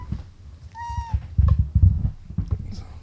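A single clear cat meow rises and falls near the start, followed by soft rustling and low thumps close by.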